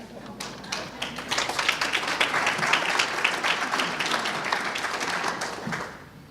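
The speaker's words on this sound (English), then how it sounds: "That wasn't worth applauding." An audience at a Jaycees DSA awards ceremony applauds for about six seconds, the clapping close and steady before it tapers off at the end, with no speech over it.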